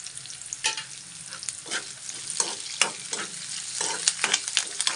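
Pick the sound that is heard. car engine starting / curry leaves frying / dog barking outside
curry leaves frying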